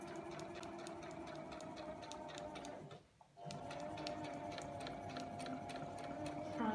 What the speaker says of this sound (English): with the drawn lines follow them with your stitching machine